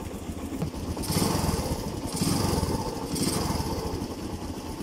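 Kawasaki Barako motorcycle engine running with a noisy exhaust, a steady close rumble that swells in three louder pulses as the throttle is briefly opened.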